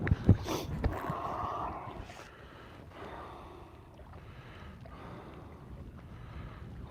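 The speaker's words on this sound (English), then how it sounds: "that wind is cold" Cold wind gusting across a lake, rushing and buffeting the microphone, strongest in the first two seconds and then settling into a steady low roar.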